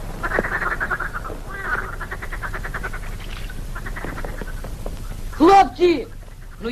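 Frogs croak in a stagnant, murky lake in a 1960 film scene, rhythmic pulsing calls near and clear, broken by a few louder sudden squawks near the end.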